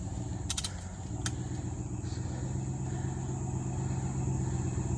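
A vehicle engine idling in neutral and revving gently as the gas is pressed, a low steady rumble that swells slightly toward the end, with a few brief sharp clicks near the start.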